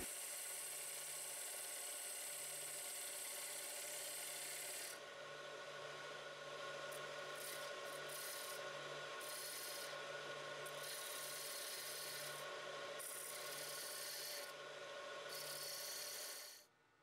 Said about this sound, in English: so I am switching to a spindle gouge that will give me a better reach and maneuverability.